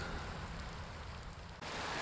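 Rain falls steadily at an outdoor RC plane flying session, a faint, even hiss of drops with no voices and a brief dip near the end.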